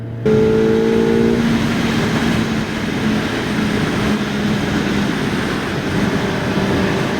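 A QJ Motor SRK 421 RR four-cylinder sport motorcycle revs hard and holds a high, steady engine howl with wind rush, loud and close throughout, one brief dip midway.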